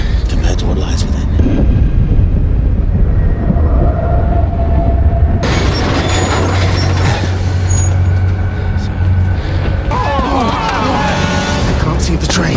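A train rumbles past in a fantasy drama scene, a loud, steady low roar with bursts of hissing brake or steam noise, under tense voices and music.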